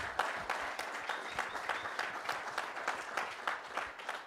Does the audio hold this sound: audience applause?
yes